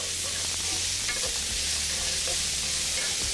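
Onions frying in a pan for a braised veal shank dish, a dense, loud, even sizzle with a few scraping thuds as they are stirred, close-up and unbroken by voices.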